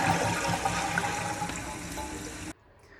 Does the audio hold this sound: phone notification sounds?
no